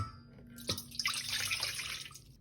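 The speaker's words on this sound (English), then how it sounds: "I'm going to start out by pouring 1 cup of water into a large mixing bowl" One cup of water poured into a large mixing bowl for homemade play dough, a steady close splashing stream that starts with a sharp splash and continues without talking.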